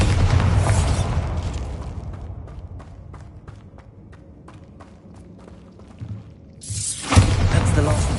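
A Bombarda spell explosion in the Hogwarts Legacy video game on PS5 Pro, with loud booming blasts at the start and again near the end, and a run of quieter rhythmic thuds and steps between them.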